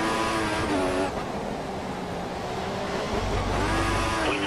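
A race car engine at full revs in the F1 2014 video game at the British circuit, a loud continuous high-pitched whine with rising and shifting tones throughout, steady and close, with no talk.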